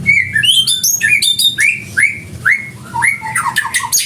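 A white-rumped shama sings nearby in a loud, varied run of clear whistles, rising slurs and chattering phrases, repeated in quick bursts over low background noise.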